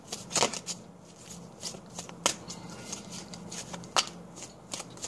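Oracle cards being shuffled by hand close up, a run of crisp riffling slaps and flicks in uneven bursts, with no talk over them.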